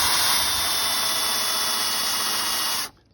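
A power drill whines at high, steady speed while pre-drilling a screw hole in wood for a DIY 1x12 speaker cabinet, loud and close for nearly three seconds before cutting off abruptly.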